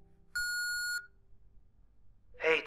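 A single electronic ringing tone sounds from a phone call in the horror game Home Sweet Home. One steady beep of about half a second is followed by quiet, and a voice starts speaking at the end.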